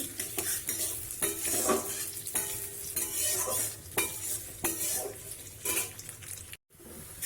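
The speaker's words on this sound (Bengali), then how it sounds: "রান্না করে সর্ষের তেল কুচনো পেঁয়াজ লালচে লালচে হবে" Chopped onion frying in mustard oil, stirred with repeated scraping strokes over a bright sizzle, close up, with a brief silent gap near the end.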